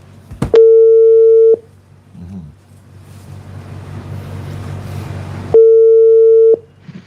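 A telephone ringback tone sounds on a call: two loud, steady one-second beeps about five seconds apart, each starting with a click, with quiet line hiss between them.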